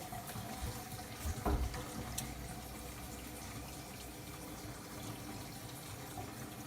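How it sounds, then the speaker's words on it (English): Water runs steadily from a tap into a newly installed washroom sink and its drain, a constant faint splashing hiss with a few small knocks near the start. "So I'm gonna turn on the water."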